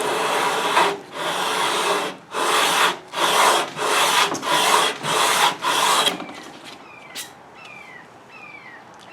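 Sandpaper rasps back and forth along a pawn-shop guitar neck: about seven loud, steady strokes with brief gaps between them, after which it drops to quieter scattered scratches and light handling.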